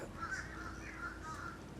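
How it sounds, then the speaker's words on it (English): A crow caws outdoors several times in a row, the calls moderately near and fairly faint over steady background ambience. "right now there's a crow talking"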